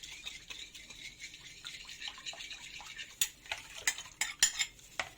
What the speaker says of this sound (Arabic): هقلب كده وانزل في الميه بتاعتي